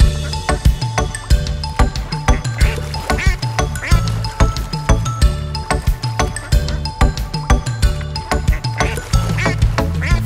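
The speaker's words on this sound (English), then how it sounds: "Mommy duck said quack, quack, quack, quack" A children's song with repeated rhythmic duck quacks over bouncy music, the quacks forming a regular beat alongside instruments and chiming tones.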